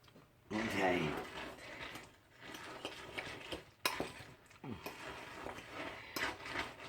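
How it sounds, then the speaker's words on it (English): Pumpkin seeds are stirred in a bowl with a utensil, giving scraping and clinking scrapes with occasional sharp knocks, heard close and under a person talking. "Now you want to stir these and combine them really good."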